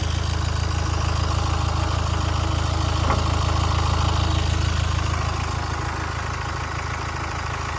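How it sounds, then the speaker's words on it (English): A camper van's diesel engine idles steadily with a low, rumbling clatter, continuous and fairly loud throughout with no voices. "So you can hear that"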